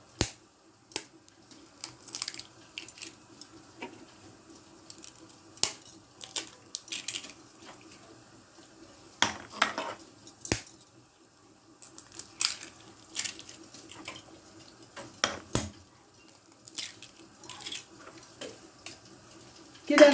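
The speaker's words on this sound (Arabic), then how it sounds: "نبدأ ننزل بيضة بيضة علشان لو في بيضة بايظة ما تبوظليش الخليط كله" Eggs cracked one at a time into a cauliflower mixture, a series of sharp, close taps and cracks spaced irregularly over a quiet background, with brief wet splats and occasional faint movement between them.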